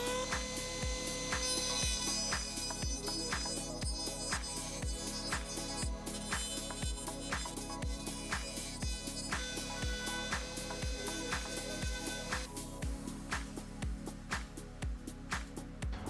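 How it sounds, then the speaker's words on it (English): A Dremel with an abrasive stone bit grinds out the bolt holes of a carbon fiber trunk wing for a G8X M3 or M4, a steady close rotary whine with rhythmic pulsing scrapes throughout. "So I'm going to clean these holes up using this Dremel"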